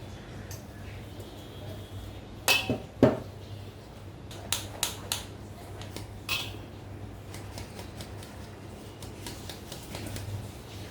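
Homemade rice flour for anarsa, freshly ground in a mixer, is sifted through a kitchen sieve. Scattered sharp taps and rattles stand out over a quiet, steady background.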